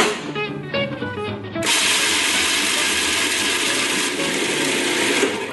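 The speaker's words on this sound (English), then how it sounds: "I'm putting it into my food processor, which I love to use" Food processor whirring as it chops pine nuts and garlic for basil pesto: a few short pulses at first, then one loud, steady grinding run that carries on to the end.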